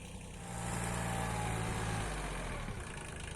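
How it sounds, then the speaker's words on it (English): A tractor drives between small cork oaks on a steep slope being cleared for terraces, its engine a steady close low hum that rises slightly and holds through the clip. "And here I'm going with the tractor between all the little cork oaks."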